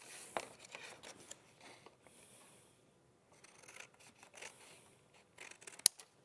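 Scissors snip through A4 craft card in a string of short, close cutting sounds with quiet pauses between them and light paper rustling; no talking.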